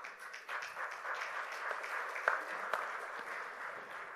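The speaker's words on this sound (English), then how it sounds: "Can we continue with a round of applause, please, audience?" Audience applause at a CEO's conclave during a petroleum industry event in New Delhi, a steady, dense wash of many hands clapping across the hall, moderately loud and continuous throughout with a few sharper individual claps standing out.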